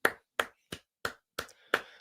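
Six distinct hand claps sound in a loose, slightly uneven rhythm over about two seconds, crisp and close-up with short decays and silence between them, a small token round of applause from a single person.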